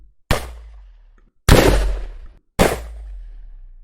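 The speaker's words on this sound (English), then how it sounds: "So this, all the gunshots are something similar to this." Three loud gunshot effects from an Unreal Engine third-person shooter game, each a sharp bang with a decaying tail, evenly spaced and heard alone without talk.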